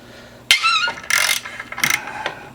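A ratchet wrench with a half-inch socket loosens the exhaust bolts on a Harley-Davidson Night Train motorcycle, giving a few short bursts of rapid ratcheting clicks close up, with brief pauses between them.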